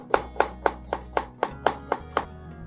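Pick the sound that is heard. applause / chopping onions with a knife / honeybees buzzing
chopping onions with a knife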